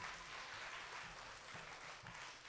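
An audience at a school spelling bee applauds after a correct word, a steady wash of clapping that fills the whole short stretch at a faint, distant level.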